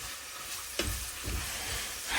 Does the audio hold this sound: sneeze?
no